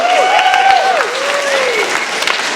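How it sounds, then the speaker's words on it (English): An audience at a Yu-Gi-Oh! fan convention panel claps steadily, a dense wash of applause with a voice calling out over it. "y'all give them a round of applause."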